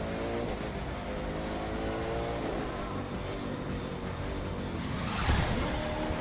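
Hypercar engine racing downhill in The Crew 2, a loud continuous whine that climbs in pitch under acceleration, ending in a rough whooshing scrape against a rail.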